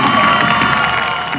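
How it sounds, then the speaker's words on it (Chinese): Schoolchildren at a Taitung student dance competition cheer and shout loudly in a dense, continuous crowd roar, the noise filling the whole moment without letting up. "要请各位同学先给自己一个最热烈的掌声"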